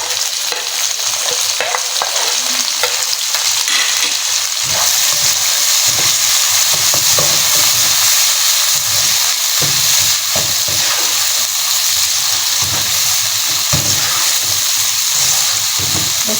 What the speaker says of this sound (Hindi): इस तरह से इसको हम अच्छे से भून लेंगे।